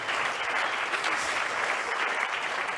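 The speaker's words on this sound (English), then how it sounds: "I think a round of applause." Audience applause at a motorsport team's season launch event, a continuous wash of clapping at moderate distance, steady and even throughout with no speech over it.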